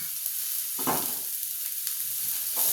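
Washed gongura leaves fry in hot oil, giving a steady hiss and sizzle broken by a few louder stirring scrapes, close and with no talk.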